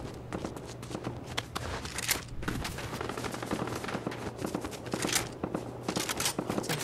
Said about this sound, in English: That's a gun firing going on.